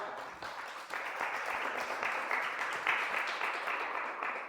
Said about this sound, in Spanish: Da un fuerte aplauso al Señor, mi amado hermano.